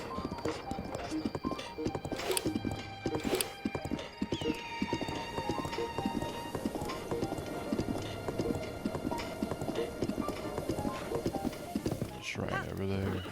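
Horse hooves clip-clopping in Zelda: Breath of the Wild, rapid rhythmic galloping beats with occasional whinnies, close and steady under game music and someone talking.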